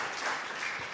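A brief, steady burst of audience applause at a school pronunciation competition final, dense clapping with no voices over it.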